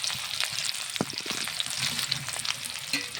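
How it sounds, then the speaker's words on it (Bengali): Steady crackling sizzle of onions frying in hot oil with puti fish, close and continuous, with a few soft clinks of a utensil stirring the pan. "পুঁটি মাছে পেঁয়াজ ভাজা"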